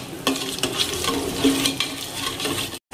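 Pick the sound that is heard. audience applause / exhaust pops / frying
frying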